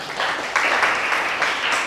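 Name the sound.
applause for group 3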